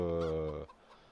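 A short chicken cluck in Farming Simulator 22, a brief tonal squawk that cuts off abruptly, followed by quiet.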